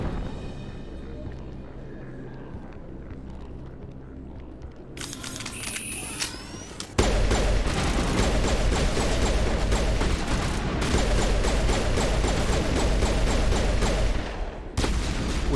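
Gunfire in Mass Effect, starting quiet with faint mechanical clicks, then a sudden loud, sustained stretch of rapid shots and impacts that runs to the end with a brief break.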